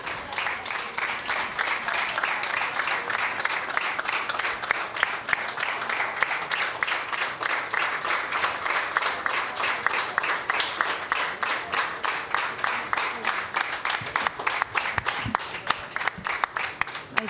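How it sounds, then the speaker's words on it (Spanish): Mourners applaud at a funeral mass for a deceased actor, a steady, moderately distant clapping that continues evenly for the whole stretch with little change in intensity. "Con aplausos."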